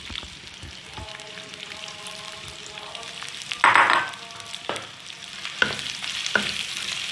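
Onions frying in about half a cup of hot oil for anarkali biryani, a continuous close sizzle and crackle with occasional spoon scrapes and a brief louder burst midway.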